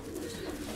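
A female pigeon of the Pałka line gives a brief, low, close-up coo in an otherwise quiet loft.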